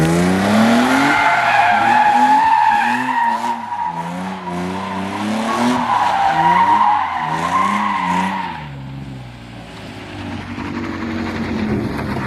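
An Infiniti G35 with coilovers, an angle kit and a welded diff drifts in circles on a street, tires squealing and skidding under a strained engine note, then easing off near the end.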